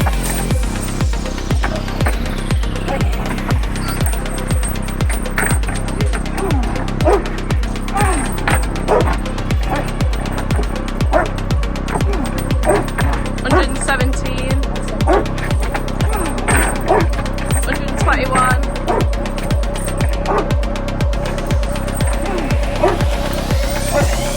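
Bulldogs bred to hold their ground latch onto a bite sleeve, with a near, loud, steady run of rhythmic bow-wow barks and yips repeating for the whole stretch, growls mixed in and some faint voices in the background.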